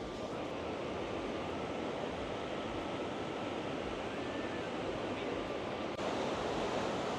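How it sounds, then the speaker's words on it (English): Iguazu Falls on the Brazil side pours with a steady, dense roar of water, broadband and unbroken throughout, slightly swelling near the end. "The never-ending waterfalls here."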